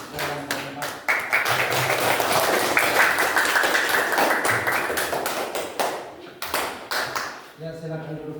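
Classroom applause for a student group after their presentation on cuboids and cubes, a dense burst of clapping lasting several seconds with a voice speaking over it near the end.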